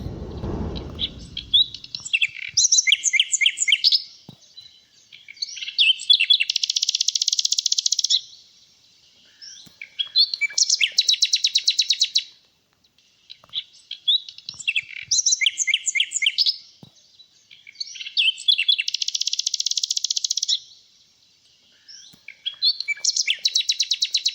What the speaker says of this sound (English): The nightingale sang to the oak tree a sweet melody.